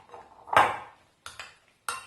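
Beans being mixed into a pepper, onion and garlic mixture, heard as a few scraping, clinking strokes of a utensil against a bowl, close and fairly quiet with short pauses between.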